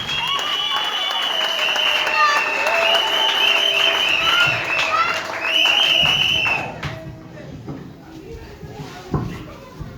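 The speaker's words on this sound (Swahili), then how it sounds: "tutapika mikono vigelegele kwa jina la Yesu" A church congregation at a wedding ceremony applauds loudly for a preacher, with dense clapping and crowd noise, high ululation-like tones riding over it for about six seconds before the applause thins and fades; voices are heard beneath.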